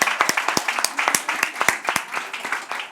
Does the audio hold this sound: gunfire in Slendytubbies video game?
no